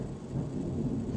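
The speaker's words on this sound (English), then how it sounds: "do you hear the thunder outside?" Low rolling thunder rumbles steadily outdoors through a rainstorm, a broad sustained roar with no voices over it.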